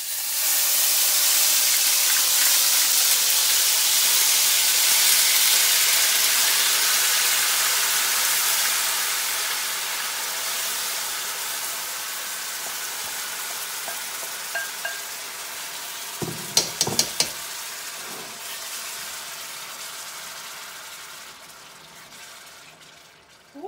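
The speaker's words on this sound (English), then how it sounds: "So right now I'm bringing the veggies. As you can see, I'm adding it now to the oil." Vegetables frying in hot oil give a loud, steady sizzle that slowly fades, followed by a few clattering stirs and knocks near the end, with no one speaking.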